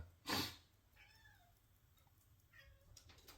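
A cat meows twice in a quiet indoor room: two short, soft, rising-falling calls spaced about a second and a half apart, preceded by a brief clatter.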